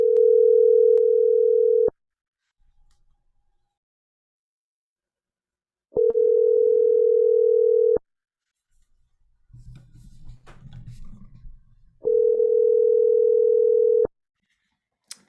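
A telephone ringback tone on an outgoing call, three loud steady two-second beeps separated by long silent gaps, with faint muffled background noise between the second and third.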